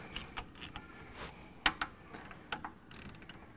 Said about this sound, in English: Now it's not probably how you should treat a ratchet. So we'll just loosen that off for the moment.